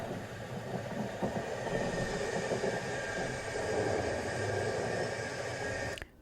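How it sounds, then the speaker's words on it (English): A red and white Virgin train rolls past on a rainy day, a steady broad roar and rumble of wheels and carriages that holds evenly for about six seconds, then cuts off abruptly. "this video is a train going past through on a rainy day"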